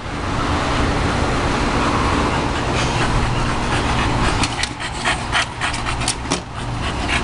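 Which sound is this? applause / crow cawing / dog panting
dog panting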